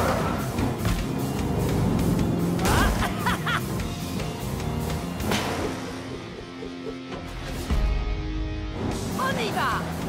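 A monster truck engine roars at full throttle in a noisy arena stunt, a dense, loud mechanical rumble running throughout while voices, laughter and whooshing effects sit over it.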